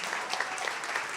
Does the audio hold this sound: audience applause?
yes